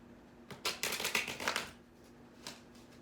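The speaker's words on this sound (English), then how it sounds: "let's get some tarot cards to get into this a little further" Tarot cards shuffled by hand nearby, a quick run of crisp riffling flutters and slaps over about a second, then a brief pause and a final softer riffle.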